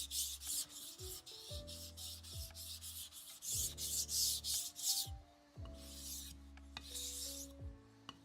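A blade being sharpened on a stone, rhythmic scraping strokes in bursts separated by short pauses, close and fairly quiet with faint tonal hum underneath and no talking.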